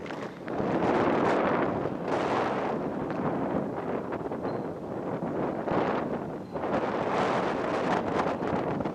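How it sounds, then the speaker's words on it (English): Strong gusts of wind buffet the microphone in an open cemetery on the Old Oregon Trail, a loud, continuous roaring rumble that surges and eases in waves, with no one speaking. "it's really windy today"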